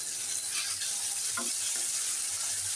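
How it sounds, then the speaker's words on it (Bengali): Mustard paste frying in a pan for achari dal, an even hissing sizzle throughout with a brief clink of a utensil partway, no talk. "সরিষা বাটাটাকেও ভেজে নিচ্ছি"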